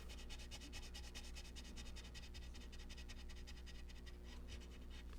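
A white pencil burnishing a coloured-pencil drawing makes a faint, steady, rhythmic scratching. The rapid rubbing strokes are close and quiet, with no talking.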